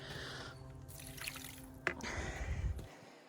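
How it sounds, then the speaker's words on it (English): Leftover water from a bucket is poured onto the ground beside a backyard compost pile, a short splash and trickle with a few drips that ends in quiet. "so I'm just gonna pour the rest out on the ground."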